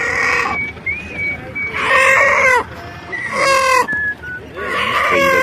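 Chickens and roosters cluck and squawk at a crowded poultry market in Dois Riachos, Alagoas, Brazil, with repeated loud calls and crowing bursts over a steady background of market noise.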